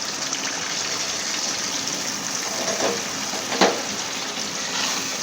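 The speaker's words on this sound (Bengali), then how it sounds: "এখন আমি গরম জল দিয়ে দেব।" Hot water is poured steadily into a pan of browned yogurt chicken (doi chicken), a continuous rushing, hissing gush that swells briefly near the end, close and fairly loud, with no voices.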